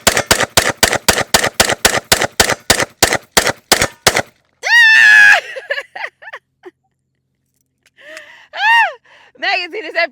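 A Smith & Wesson M&P M2.0 pistol firing Winchester white box ammunition, about a dozen loud, sharp shots in quick regular succession, then people talking after the string ends.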